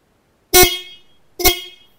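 A German-made car horn sounds two short, loud honks about a second apart, each fading quickly, with no talk around them.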